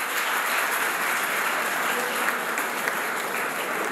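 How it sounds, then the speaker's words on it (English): Steady, dense applause from an audience honouring engineering and materials science faculty members at a university majors orientation, continuous and fairly loud throughout with no talk. "Can you please all applause for our faculty members"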